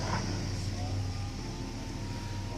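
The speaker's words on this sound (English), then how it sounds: "As you guys can hear, the dang cars and..." Steady road traffic from cars on a nearby road beside an outdoor campsite, a continuous low engine rumble with a passing swell near the start.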